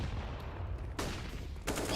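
Gunfire and a grenade blast in a competitive esports shooter match, sharp bursts of shots with two sudden loud cracks cutting through a low rumbling background.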